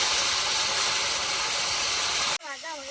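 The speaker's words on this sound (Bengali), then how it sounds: "হালকা ভেজে নিতে হবে" Katla fish lightly frying in oil gives a loud, dense, steady hiss that fills most of the moment, then cuts off abruptly near the end into a brief, quieter tonal sound.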